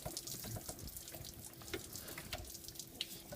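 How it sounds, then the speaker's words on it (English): Coolant drains from the water pump housing of a Ford Super Duty 7.3 L diesel, a continuous close trickle and splash of liquid running into a bucket that ends on a small knock. "Gently pry it, and it'll come loose. And you'll have more coolant will drain out."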